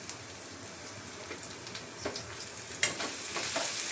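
Turmeric, coriander powder and a pinch of asafoetida fry in hot oil with a quiet, crackling sizzle, joined by a few sharper stirring clicks and spatters in the second half; no speech.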